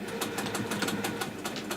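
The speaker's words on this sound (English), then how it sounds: "We're going to sew" A sewing machine stitching a harness bag runs steadily up close, its rapid regular needle strokes forming an even mechanical pulse throughout, with no talk.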